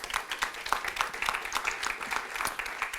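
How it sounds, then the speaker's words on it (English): Audience applause at a corporate giving event, a dense wash of many hands clapping steadily at moderate volume for a few seconds. "Let's give them a nice big round of applause"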